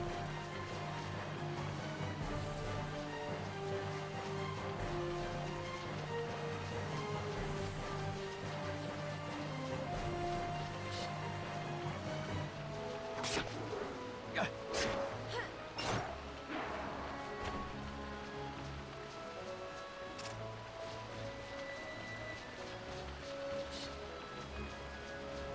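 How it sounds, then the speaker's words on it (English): Game rain falls in Final Fantasy XII as a steady, soft patter and hiss over an ambient music bed, with a few sharper clicks and crashes in the middle. "Man, it's still raining."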